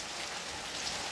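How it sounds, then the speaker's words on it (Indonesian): Rain falls steadily outdoors, a soft, even hiss of drops pattering on surfaces at low level with no voices. "Jadi ini ada lagi hujan juga nih"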